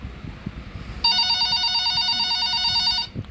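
In a nurse video game, a telephone rings with a bright electronic trill lasting about two seconds, loud over a low background hum, then cuts off.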